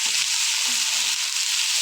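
Fish fries in a hot pan with nut paste while being stirred, a loud, constant hiss of sizzling oil that fills the short stretch with faint scraping underneath and no talk.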